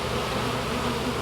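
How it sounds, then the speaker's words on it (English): A dense mass of honey bees in a loaded hive box hums as one steady, continuous buzz, close and even, with no talking over it. "you can see we got a mess of bee"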